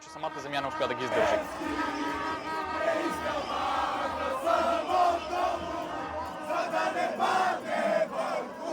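A huge crowd of over 100,000 protesters against corruption in Bulgaria roars and chants together, a dense continuous wall of voices with rising shouts, loud and close.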